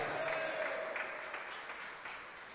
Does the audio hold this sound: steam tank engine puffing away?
no